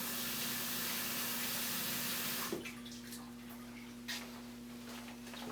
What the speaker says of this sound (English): I'm going to go rinse this off. In my other sink,